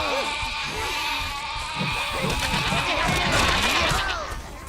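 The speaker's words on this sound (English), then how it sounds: "This guy has like sheep as pets, and we just come in and start killing his pets" Sheep bleat repeatedly in the video game Overlord, several wavering calls overlapping amid a busy, cluttered game soundscape with crashing effects.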